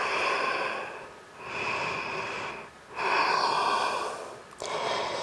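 Deep, audible breaths during a yoga straddle stretch: several slow inhales and exhales, close and airy, with short pauses between them.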